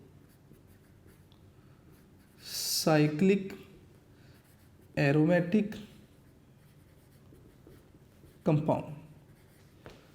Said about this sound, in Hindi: मैं यहाँ पे लिख देता हूँ कि